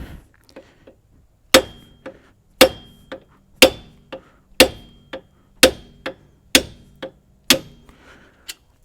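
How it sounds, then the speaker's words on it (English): Hammer strikes driving studs out of a GM front strut assembly from a Chevy Cobalt or Pontiac G, sharp metallic blows about once per second, often followed by a lighter rebound tap, close and loud. "So you want to get a hammer to do that."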